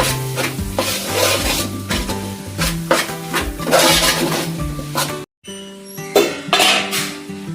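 Chili and coriander powder stirred into a Kerala-style chicken curry in a pan, a close, steady scraping and sizzling with light clinks of spoon on metal, a brief pause near the end before the stirring resumes.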